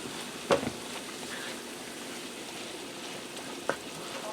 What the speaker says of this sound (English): I'm going to stir it all together to get the flavors blended through